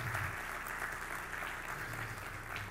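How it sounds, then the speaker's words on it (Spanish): An audience claps in steady, dense applause that keeps up evenly throughout, fairly faint and distant, with no one speaking over it. "Vamos a darles un aplauso bien fuerte a cada uno de ellos."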